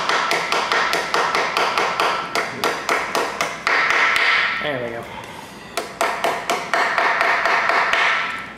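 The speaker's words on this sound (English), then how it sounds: "I like using this brass hammer." A brass hammer taps a part into place on a Ford 302 small-block engine: rapid runs of sharp, ringing metallic taps, close and loud. A short spoken remark falls in a brief pause before the tapping resumes.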